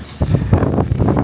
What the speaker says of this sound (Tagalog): Yung fog, yung hangin, yung drizzle